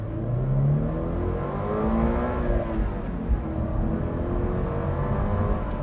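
A 2025 Subaru BRZ tS sports car drives along, its engine humming steadily and rising and falling in pitch with occasional revs, heard close from inside the cabin with no talking.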